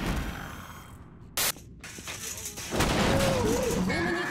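Gunfire in the Half-Life 2 video game: a busy spray of shots and bursts with one abrupt loud crack early on, then a heavier roar of firing, while a voice talks over part of it.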